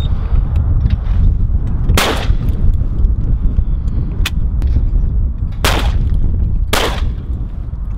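Shotgun shots at clay targets ring out over a steady outdoor rumble, with several sharp, loud blasts spaced a second or two apart and fainter pops between them.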